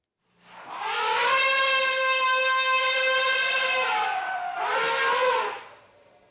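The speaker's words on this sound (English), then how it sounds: "elephant. Trumpets" Elephant trumpeting, a long loud harmonic blare lasting several seconds, then a second shorter blast right after it, heard alone with no talk.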